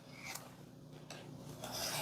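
Fabric for tea coasters being cut with a sawing push-and-pull motion gives repeated rough, raspy strokes, several close scraping bursts in quick succession with no voices.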